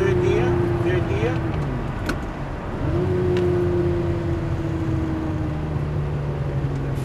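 A Lamborghini engine drones steadily while driving on a track, its tone dropping briefly around a gear change before settling into a sustained, loud, close hum as the car carries on.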